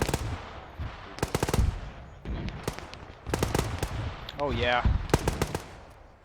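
Gunfire in the war game ArmA 3 comes in repeated rapid bursts of sharp cracks, some near and some distant. Mortar impacts land among the shots, and a voice talks briefly under the firing.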